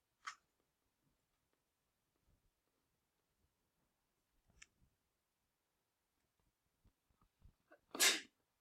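One sharp sneeze bursts out near the end of an otherwise quiet stretch in a calculus class, with a faint sneeze-like sound at the start and scattered soft clicks and taps between.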